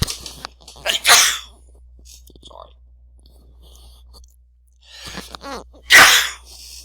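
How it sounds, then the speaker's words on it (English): Two sharp sneezes, one near the start and another about five seconds later, each with a breathy intake, separated by quiet stretches and faint rustling. "Just suddenly the sneeze came on."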